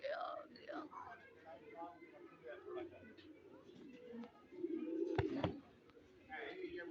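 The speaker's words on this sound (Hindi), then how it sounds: "कबूतर भी आ गया" A pigeon coos softly in repeated low, rolling calls, close by, with quiet whispered voices and a brief rustle or thump partway through.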